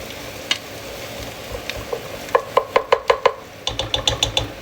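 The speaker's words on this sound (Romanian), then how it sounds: "Mai amestecăm un pic în oală." Pork and onions sizzle and fry in a pot while a utensil stirs them, a steady close hiss broken by a quick series of sharp scraping knocks against the pot, with no talking.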